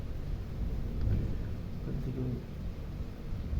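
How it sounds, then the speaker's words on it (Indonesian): Steady rain with low rolling thunder on a cloudy day, a continuous broadband hiss with a deeper rumble swelling around the middle, faint and without talk. "Hujan, mendung."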